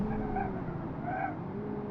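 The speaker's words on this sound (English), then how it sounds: "Alright, brake testing." A car in a driving game brakes hard, its tires squealing in a steady skid over a low engine drone, with the squeal rising and fading twice.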